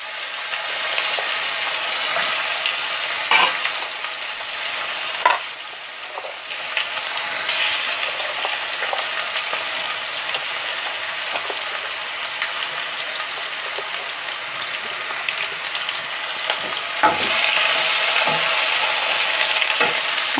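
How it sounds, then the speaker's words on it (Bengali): Potato and bitter gourd fry in a pan with a continuous hissing sizzle, broken by occasional scrapes and knocks of stirring. "দিয়ে এবার আমরা আলু উচ্ছে দুটোকেই একসাথে দিয়ে দেবো ভাজা ভাজা করার জন্য।"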